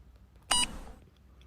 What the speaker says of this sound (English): When the treatment is finished, you will hear a beep.